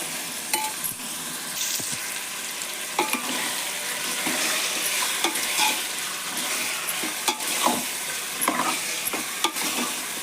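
Chicken being stirred and fried in oil for a chicken gravy, a continuous close sizzle overlaid with repeated scraping and stirring knocks, no talking.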